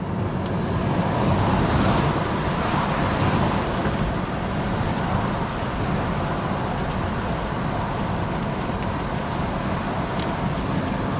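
A Tesla Model 3 cruising with its windows down, fitted with a roof sunshade, fills the cabin with steady rushing wind buffeting and low road rumble, a continuous broadband roar with no voices.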